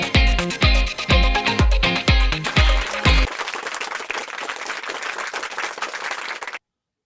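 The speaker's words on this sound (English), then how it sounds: "So let's give her a round of applause" A round of applause at an online conference session: dense, close clapping in several swelling bursts, then thinning into scattered claps before cutting off.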